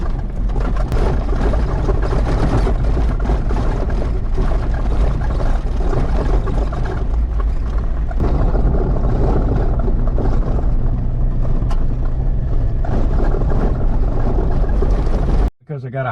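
A vehicle rattles and rumbles loudly over a washboard dirt road in Death Valley, a steady, heavy, vibrating roar with wind-like noise that cuts out abruptly near the end.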